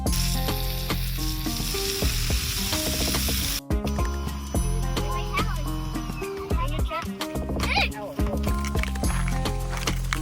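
Food sizzles and fries in a pan at a family campsite, with steady crackling and occasional clinks of stirring utensils while people talk over it.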